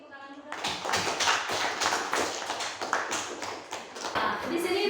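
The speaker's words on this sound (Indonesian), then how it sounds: "Terima kasih untuk Isti, tepuk tangan juga." A classroom of students claps for a classmate's presentation, a dense burst of brisk hand claps that starts abruptly and continues steadily at close range.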